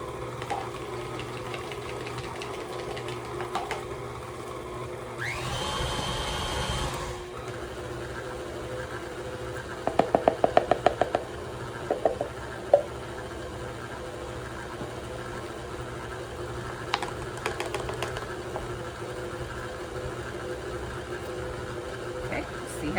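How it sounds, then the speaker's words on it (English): A KitchenAid stand mixer churns chocolate chip cookie dough with a steady mechanical motor hum and rhythmic knocking throughout, while a person talks over it intermittently. "Now a sturdy KitchenAid is the best thing for cookie dough"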